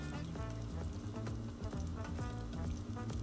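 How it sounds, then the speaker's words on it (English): Bacon sizzling on a Blackstone 22-inch griddle, a close, steady crackling fry with busy popping spatters throughout and a low background hum; no one speaks. "You can see the sizzling coming through the top. That's when you know bacon's done."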